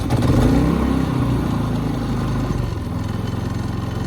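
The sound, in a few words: Harbor Freight 3500 inverter generator starting on natural gas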